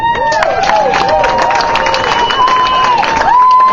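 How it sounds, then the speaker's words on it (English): Crowd cheering and applauding for improv performer Roy Taff of the Baltimore Improv Group at an Ignite Baltimore talk event, a loud, steady wash of clapping with whoops and shouts layered on top throughout. "please give a warm round of applause to Roy Taff"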